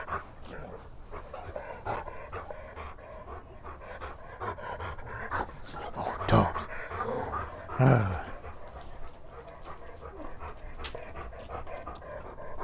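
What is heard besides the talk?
dog panting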